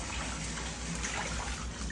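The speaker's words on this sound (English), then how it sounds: "So we're going to go ahead and drain that water out" Water draining from a tub where a salted deer hide has been soaking, a steady gushing, gurgling flow that stays constant and close, heard alone.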